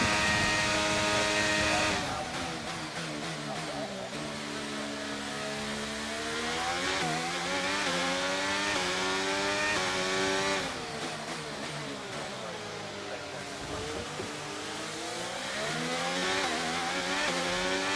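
Formula 1 race car engines in the video game F1 23 scream loud and continuous, pitch climbing and dropping through gear changes as the car races and overtakes, with no talk over it.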